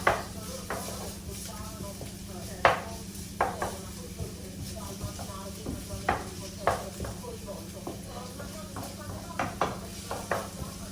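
Ginger browns in a pan as a steady low sizzle runs underneath repeated sharp clinks and scrapes of a utensil stirring against the metal, spaced irregularly throughout.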